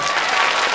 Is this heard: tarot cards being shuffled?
no